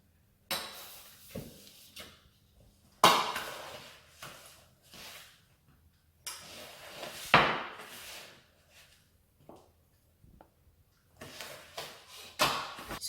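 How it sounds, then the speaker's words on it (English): A spoon mixing flour, cocoa powder, baking powder and sugar in a bowl for a children's chocolate chip traybake, heard as intermittent scraping and knocking strokes in bursts separated by quiet pauses. "So while Danny's mixing the dry ingredients"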